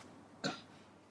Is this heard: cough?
yes